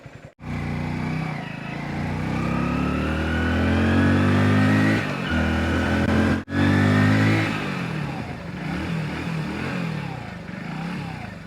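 A Hero Splendor Plus XTEC 2.0 motorcycle (2024) engine runs steadily nearby, its hum rising slightly in pitch, briefly cutting out, then settling back into a lower idle.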